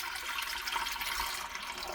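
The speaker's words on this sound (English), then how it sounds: "I'm gonna add some more water, just a bit" Water poured into a pot of plant materials being prepared for natural fabric dye: a steady, close rushing splash that runs evenly throughout without pause, no speech.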